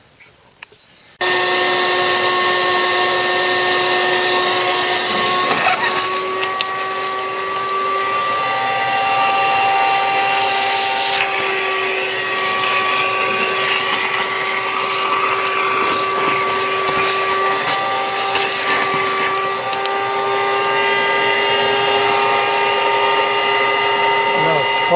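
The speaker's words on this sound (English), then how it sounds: "Well, I'll go with the vacuum cleaner now." A vacuum cleaner starts abruptly and drones loudly and steadily, its whine shifting now and then as debris is sucked up.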